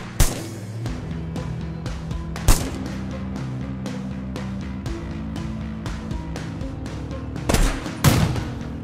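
Frag grenades exploding in the Ratten Reich PC war game, several sharp blasts scattered over a steady low battle drone, with two loud explosions close together near the end.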